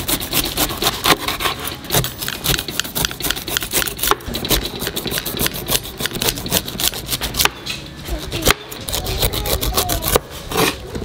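Continuous rasping, scraping cuts as a knife saws through a pineapple's tough skin, steady and close with rapid repeated strokes.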